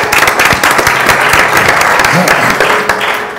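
Audience applause at a Chilean labour relations conference, a steady, dense burst of many hands clapping at close range, holding strong throughout with faint murmur beneath.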